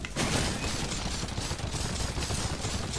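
Gunfire in the video game Watch Dogs 2, a dense continuous burst of rapid shots and crackle after a sharp onset, loud and close, with no voices.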